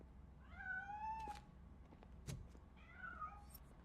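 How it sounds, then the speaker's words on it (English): A cat in the video game RoboCop: Rogue City, hiding inside a piano, gives two drawn-out, wavering meows separated by a short thump, faint and fairly close with no speech. "That cat must be hiding inside."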